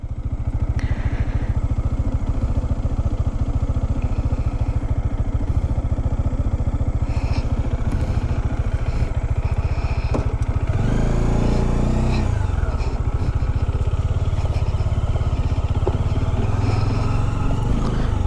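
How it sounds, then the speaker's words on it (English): An RC200 and an Apache 200 motorcycle ride past on a rough, partly off-road ghat road, engines droning steadily and loudly with a rising rev and clatter midway as the bikes pass close by. "RC200 and Apache 200 are coming."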